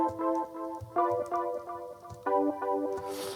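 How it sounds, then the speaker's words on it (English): A Roland Juno synthesizer plays its Opening Act pad preset, with warm layered chords that swell and shift in a slow repeating pattern, heard alone and fairly loud. "I found this preset called Opening Act that sounds like this"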